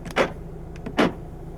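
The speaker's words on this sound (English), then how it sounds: "Electronic central locking," A 2016 Volvo XC90 2.0 D5 Momentum's electronic central locking actuates with two short, sharp mechanical clunks about a second apart, close and clear over a quiet cabin.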